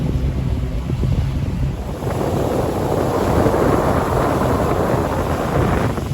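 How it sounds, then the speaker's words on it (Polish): Strong wind buffets the microphone beside a lake in Texas, a constant loud roaring rush that swells slightly midway, with no voices. "Pewnie za głośno wieje"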